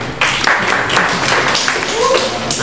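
An audience claps for a speaker at a discussion forum, a short, moderately loud burst of scattered hand claps mixed with voices talking over it.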